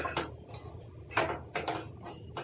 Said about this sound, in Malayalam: ഒന്നുകൂടി നന്നായിട്ടങ്ങ് മിക്സ് ചെയ്യണം